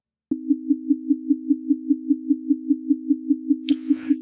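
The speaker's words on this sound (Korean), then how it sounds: "이번엔 사인파마다 5 h z 의 차이를 가지고 있는 소리고요" Two pure sine tones set 5 Hz apart merge into one steady hum that pulses in loudness about five times per second, alone and sustained, with a brief bright noise burst near the end.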